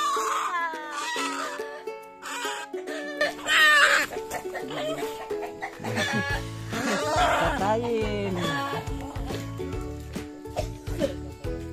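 Clucking and squawking from chickens on a farm, mixed with other animal and household noises, fairly close and busy throughout, with no speech.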